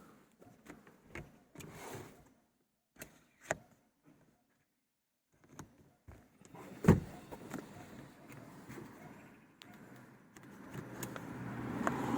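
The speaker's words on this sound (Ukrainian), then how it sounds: "Підігрів дзеркал складання дзеркал." Power-folding side mirrors on a second-generation 2005 Renault Scenic, heard as scattered clicks followed by a low whirring motor hum that builds toward the end inside a quiet car cabin.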